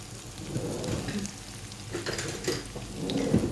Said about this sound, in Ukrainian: щоб у вас прожарилась і ковбаска піджарилася, і цибуля тут же в нас є, повинна піджаритися